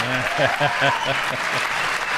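Applause in a chamber during a State of the Union address, a dense burst of clapping under a voice talking over it.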